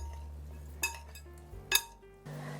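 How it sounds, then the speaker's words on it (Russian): Warm eggplant salad with tomatoes, feta and toasted sesame seeds being stirred in a dish, giving two sharp clinks of utensil against dish over a low background hum. "Хорошо все перемешиваю."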